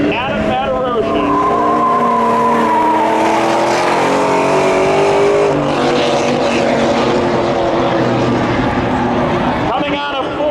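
Spectator drag race cars, including a Firebird, at Seekonk Speedway, engines roaring loud and close with rising and falling revs, under continuous announcer commentary.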